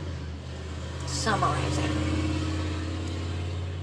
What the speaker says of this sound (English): just in case you couldn't hear over that car